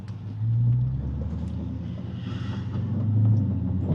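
A cheap, stolen Dodge Hellcat pulls away in first gear with a deep, steady engine rumble that swells slightly twice, heard from inside the car with no talk.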